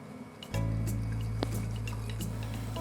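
Water is added to clay on a spinning pottery wheel, wet dripping and squishing sounds over a steady motor hum that starts abruptly after a brief quiet moment.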